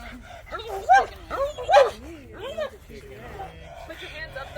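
A German Shepherd working dog barks and yips in short, excited bursts close by, whining between barks, while people talk at the same time.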